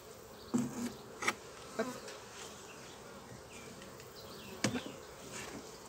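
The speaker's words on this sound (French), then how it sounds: "quelques abeilles dans le nourrisseur, ok." Honeybees buzzing nearby at a hive feeder in a quiet setting, with a few sharp louder passes and clicks against a soft background hum.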